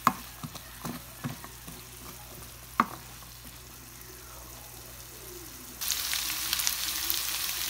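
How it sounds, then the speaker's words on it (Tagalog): Picadillo soup ingredients of cabbage and potatoes being sautéed in a pan, giving a soft steady sizzle with a few sharp stirring clacks early on, then a louder, brighter frying hiss for the last couple of seconds. "Igigisa din natin ito."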